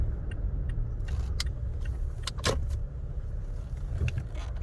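A 187,000-mile third-generation Toyota Tacoma TRD truck cruising on a highway, its steady low road and engine rumble filling the background with brief light rattles and clicks from the cabin.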